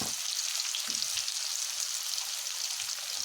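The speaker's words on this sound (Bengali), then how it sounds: "এই যে সেদ্ধ করে আলু রেখেছিলাম সেটা ঢেলে দেবো, একটু ভাজবো এটা" Boiled potatoes fry in a pan for Bengali dum aloo, a continuous hiss of sizzling oil with a few soft stirring knocks, close and steady throughout.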